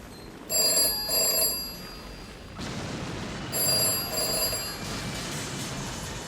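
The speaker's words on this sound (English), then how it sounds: "who's gonna answer the telephone?" An old-fashioned telephone bell rings in two bursts, pauses, then rings twice more over a steady background hiss.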